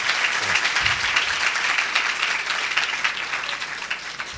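Audience applause at a church gathering, dense and steady clapping filling the room for several seconds, close and continuous with no speech over it.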